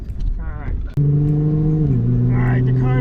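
A car pulling out of a driveway: a steady, close engine hum begins abruptly and settles into a lower tone, with people talking in the background.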